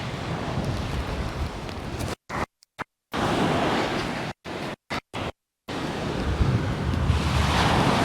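Strong wind buffeting the microphone at the seaside in Sutton on Sea during sea fishing, a loud continuous roar with surf beneath it, cut by several brief dropouts.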